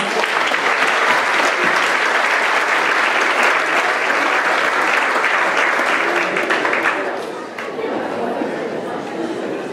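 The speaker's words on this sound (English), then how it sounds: "Now let's give everyone a round of applause." Loud, dense applause from the crowd at a student-athlete awards night, continuous clapping for about seven seconds that then thins into lighter clapping and crowd chatter.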